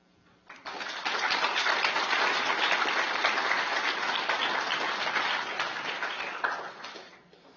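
An audience at a committee presentation breaks into sustained, dense applause that starts abruptly and holds steady for several seconds before tapering off, with no talk over it.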